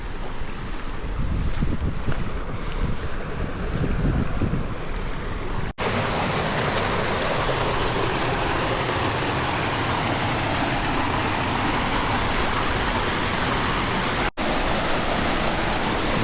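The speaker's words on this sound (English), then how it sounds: "you got the waterfall right here." Waterfall at the end of the Murray Canyon trail to Seven Falls near Palm Springs, a constant loud rushing wash of falling water heard up close with no talk.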